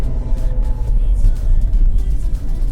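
A Cadillac CTS engine and drivetrain rumble while driving, heard from inside the cabin as a loud, low, steady drone with slight surges and road noise and no talk over it.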